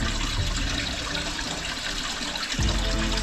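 Spring water drawn from underground pours steadily from a fountain in Japan, a loud continuous splashing rush that briefly shifts in tone near the end.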